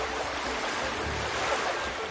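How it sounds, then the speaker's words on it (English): Loud rushing water in the Conker's Big Reunion video game, a dense continuous roar of flowing water like surf or a torrent, steady and close with no break. "The water is so fucking loud."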